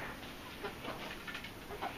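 Chickens cluck softly in a backyard coop and run, several faint, scattered clucks over a steady background hiss.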